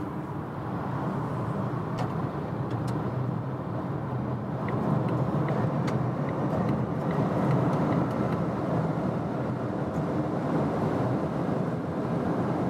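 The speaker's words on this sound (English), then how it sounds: "We're in Germany, German Autobahn, the new Volvo XC40 EV, and let's accelerate it out" A Volvo XC40 Recharge electric SUV accelerates hard on the German Autobahn, heard from inside as a steady, loud roar of road and wind noise with a faint electric whine, continuous throughout with no talking.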